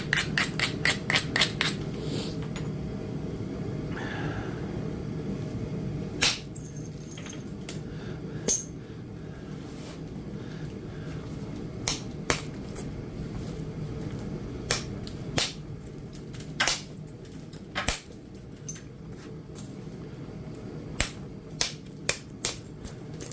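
Edwards Plateau chert knapped with a hammer, sharp glassy clicks and cracks striking at irregular intervals, a quick burst at the start, then spaced single strikes over a low steady background hum.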